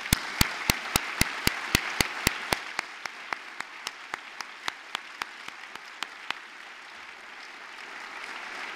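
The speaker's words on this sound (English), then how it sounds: "take another stand so that we may applaud you as well" Applause from a university fall address audience, opening with a run of loud, evenly spaced close claps that thin out into sparser, fainter claps over a low crowd background before fading.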